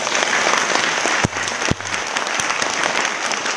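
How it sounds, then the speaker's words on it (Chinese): An indoor audience at a book-sharing seminar claps in a dense, sustained round of applause, with a couple of sharp thumps from handling a microphone partway through. "一定要给导师掌声"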